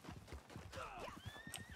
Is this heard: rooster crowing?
no